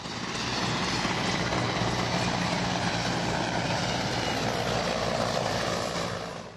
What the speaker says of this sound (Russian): В небе над Сухумом пролетели военные вертолеты